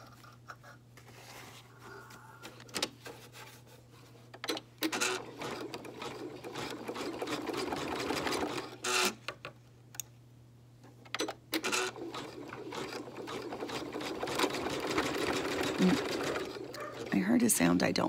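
Embroidery machine stitching with metallic thread, a fast steady mechanical whir and needle patter running close and continuous, pausing briefly now and then, with someone talking softly over parts of it.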